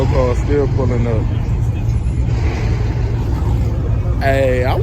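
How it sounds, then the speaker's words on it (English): Cars idling and rumbling at a busy nighttime car meet, a deep continuous engine drone close by with people talking over it. "More cars still pulling up."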